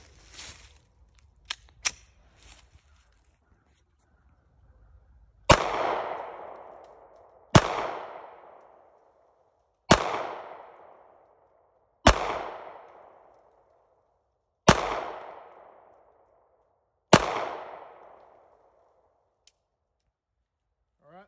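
Six evenly spaced, sharp gunshots from a Ruger LCP .380 pistol ring out at an outdoor range, each loud crack trailing off in a brief echo, after a few faint handling clicks at the start.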